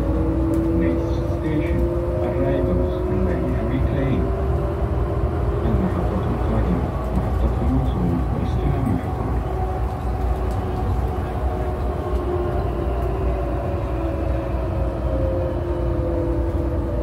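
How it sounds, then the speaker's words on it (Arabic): An airport shuttle train at a Saudi airport rumbles and hums steadily as it rolls along the track toward a station, its pitch gradually shifting, with voices, including an Arabic announcement, heard over the noise. "القطار يقترب من المحطة."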